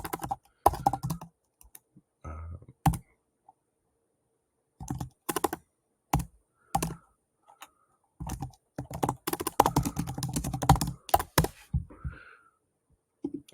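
Keystrokes on a computer keyboard while entering search keywords, bursts of quick, close clicks separated by short pauses, with no talking.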